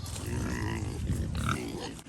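Deep, rough grunts from a pregnant sow on a farm repeat in a steady run, close and loud, with a few higher squeals mixed in.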